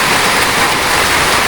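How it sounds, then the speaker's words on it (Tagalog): Heavy rain pours steadily and loudly over a tilapia fish pond during a harvest, a dense, continuous hiss filling the whole stretch with no voices. "Sobrang lakas yung ulan mga boss madam."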